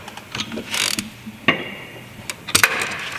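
A wrench breaks loose a steering shaft bolt on a Saturn Ion: sharp clicking and cracking bursts, a few separate snaps close by with quiet gaps between, no talking.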